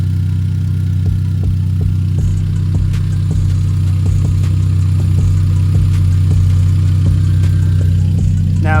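A car engine idles after a turbo upgrade on a Genesis Coupe, a loud, steady, close-up rumble with faint periodic ticking throughout.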